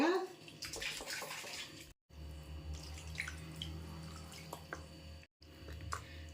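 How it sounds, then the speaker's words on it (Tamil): Water splashes and sloshes inside a mixer jar being rinsed, with running water and small drips, fairly close, in a steady stretch broken by two brief pauses. "மிக்சியில் கொஞ்சம் ஊற்றி அலசி தண்ணியை கழுவி ஊற்றிடலாங்க"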